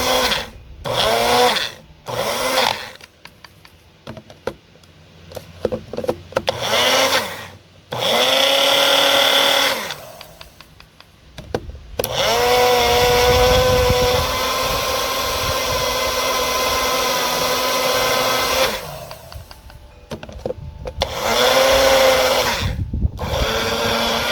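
A blender purees herbal material for sleep aid capsules in loud, whining bursts: several short pulses, then a long sustained run, then a few more pulses. Quiet pauses separate the bursts.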